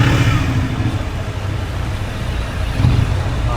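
A large 750cc motorcycle engine revs loudly and close by amid road traffic, its low rumble swelling at the start and again near the end.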